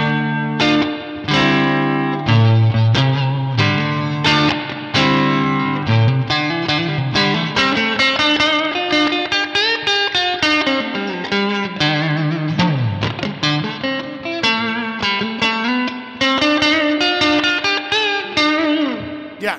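Electric guitar played through an amp effect, a steady run of plucked notes and chords with some reverb and light grit, alone and fairly loud.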